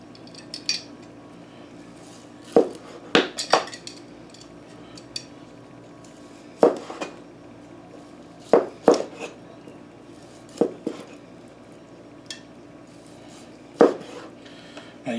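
A sharp knife slices through grilled backyard-style pork ribs on a board, giving sporadic clicks and knocks of the blade, close and moderately loud, with quiet gaps between the cuts.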